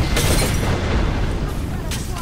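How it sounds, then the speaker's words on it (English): Airstrike bombardment in Apex Legends: a dense, continuous rumble of booming explosions fills the whole stretch, loud and close, with sharper blasts standing out near the start and end, and voices talk over it. "I called my bombardment on them."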